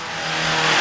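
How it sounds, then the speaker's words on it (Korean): Engine of a Hyundai Santa Fe roaring loudly during sudden unintended acceleration, a strained revving tone rising steadily in a brief, close burst with no talk. "이후에도 급가속 현상이 계속됐고 키를 뽑은 뒤에도 엔진은 멈추지 않았습니다."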